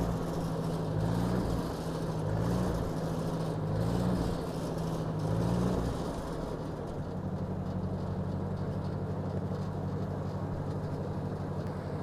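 A Ford NAA Jubilee tractor engine runs steadily throughout, its low rumble swelling in several short throttle surges during the first half before settling into an even, continuous drone.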